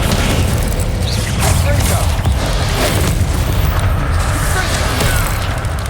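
Spell impacts from a Hogwarts Legacy duel, the Descendo slam among them, make a loud, dense, continuous low rumble of booms with no quiet gaps, and a voice is partly audible within it.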